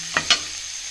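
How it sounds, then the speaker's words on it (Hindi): Potatoes and onions frying in oil, with two quick stirring scrapes over a faint, steady sizzle. "आलू और प्याज को दोनों तेल के साथ हम फ्राई करेंगे।"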